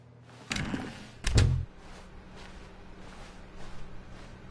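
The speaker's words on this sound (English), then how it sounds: "When Stanley came to a set of 2 open doors, he entered the door on his left." A door in the video game The Stanley Parable opens with two sharp thuds in quick succession, the second heavier, followed by a quiet room-tone hum.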